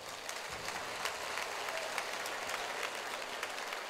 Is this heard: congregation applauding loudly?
yes